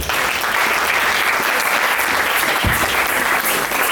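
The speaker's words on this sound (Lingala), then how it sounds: "Acclamez pour le Seigneur." A church congregation claps and applauds for the Lord during a service, dense continuous applause filling the room at an even loud level throughout, with faint crowd murmur beneath.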